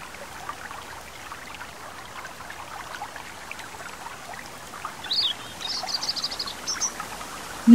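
A country meadow stream trickles and burbles steadily and softly, while a few faint birdsong phrases chirp in the distance toward the end.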